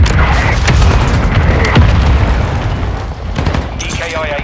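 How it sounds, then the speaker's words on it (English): Mortar strike explosions in Call of Duty: Modern Warfare II, a dense, loud run of booming blasts and crackling gunfire rolling on continuously, close and heavy. "Our mortar strike is inbound."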